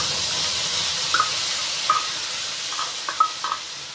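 Spice paste sizzling as it goes into hot oil in a pan, a steady bright hiss with a few soft clinks and stirring taps.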